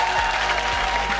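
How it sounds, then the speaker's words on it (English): An audience gives a brief burst of applause for a musician, a dense, even patter of many hands clapping throughout the short moment. "Could we have a giant round of applause"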